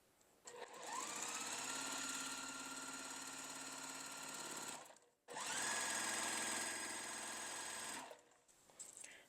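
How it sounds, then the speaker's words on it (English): Sewing machine stitching quilt fabric for a mystery quilt block, running steadily in two continuous bursts separated by a brief pause, close and alone with no talk. "I'm just going to sew. Let the machine do the work."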